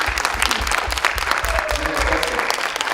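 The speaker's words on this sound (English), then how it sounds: "Please join me in clapping for the students that stayed here this late." An audience at a high school State of the School event claps for the students. The applause is dense and continuous, fairly close, and runs the whole time with a few voices mixed in.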